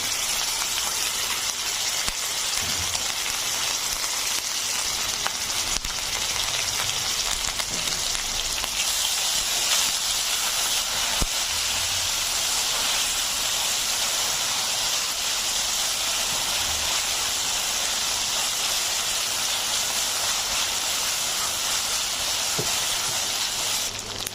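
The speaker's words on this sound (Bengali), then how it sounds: "এবার আমি দিয়ে দিচ্ছি একটু আদা রসুন পেস্ট।" Ginger garlic paste sizzles in oil with browned onions, a loud, steady hiss like heavy rain that carries on unbroken and close, with no talking.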